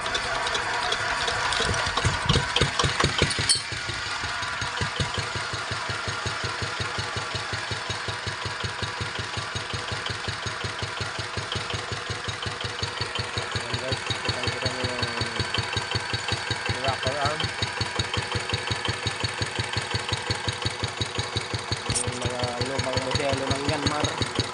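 A Yanmar F5C engine, revived after two years in storage, idles steadily with a continuous low mechanical chug and rhythmic pulsing, louder for the first few seconds before settling, while someone talks over it.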